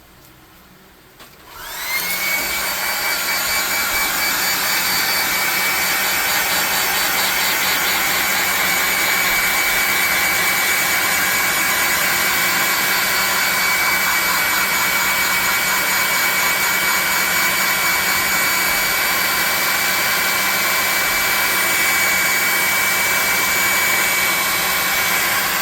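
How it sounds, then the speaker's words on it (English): A hair dryer's steady, loud blowing whir starts after a quiet moment and runs unbroken to the end, with a high motor whine over it. "We need to hit this with a hairdryer."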